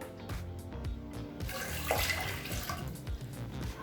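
Water pours steadily into a pressure cooker holding soaked cowpeas, a continuous splashing gush, quiet and close, with no talk.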